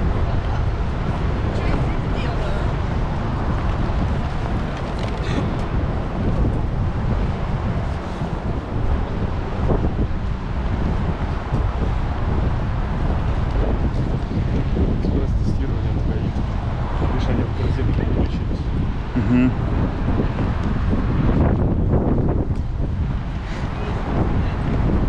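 Wind buffets a microphone outdoors in a Moscow street, a continuous loud rumbling roar that fills the whole stretch with little variation.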